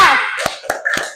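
Children at an elementary school clap along to a tepuk chant, with three quick, sharp, close claps in an uneven rhythm right after a brief voice.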